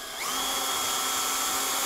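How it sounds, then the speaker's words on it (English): A power drill spins up and whines steadily as it bores into a wooden cabinet drawer for a handle, the motor pitch holding constant and loud close by. "Now we are ready to drill."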